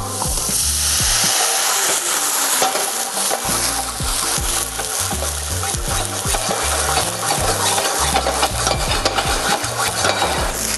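Cream-stewed spinach cooks in a pan while LINIE aquavit boils off, giving a continuous loud sizzle with repeated scraping and stirring strokes throughout.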